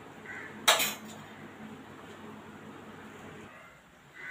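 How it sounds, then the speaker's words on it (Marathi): A single bright metallic clink as a lid is set onto a pan while uttapam made from rice and lentil batter cooks, followed by a quiet, steady kitchen hum. "आता यावर आपण झाकण ठेवूया।"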